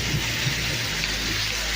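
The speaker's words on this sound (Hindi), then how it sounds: "ओलों की बहुत ही जोरदार बारिश और वो भी गरज चमक के साथ।" Heavy hail pelts down during a thunderstorm at Chilam Chowki near Astore on the way to Deosai, Pakistan, a dense, steady roar of impacts with no distinct thunderclap standing out.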